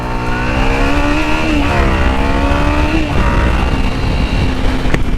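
A loud car engine revs and accelerates close by on a highway, with a tire squeal rising over the steady roar of traffic noise.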